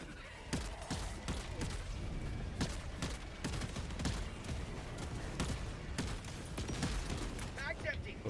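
Gunfire in Helldivers 2: a rapid string of sharp, loud shots, mostly in quick bursts with brief gaps, keeping up a dense rattle of cracks and thuds for the whole stretch.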